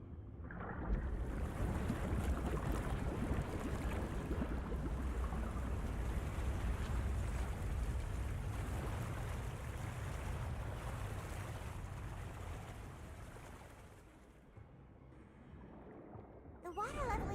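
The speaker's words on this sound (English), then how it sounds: "The water level is rising." Continuous rushing, surging water as the level rises in Genshin Impact's Fontaine, a broad steady wash with wind-like noise that eases slightly near the end, with a faint voice underneath.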